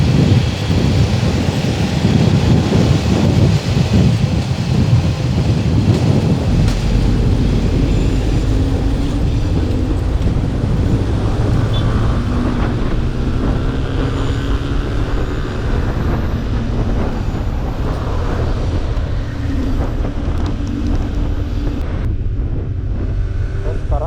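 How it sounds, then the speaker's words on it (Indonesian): A heavy coal freight train in Lampung, Indonesia, rumbles past steadily for the whole stretch, a dense low roar with wind buffeting the microphone, loud and close throughout. "sebelah kanan gua itu ada kereta api ya, kereta api batu bara"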